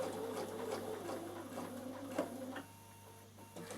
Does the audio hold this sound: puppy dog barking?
no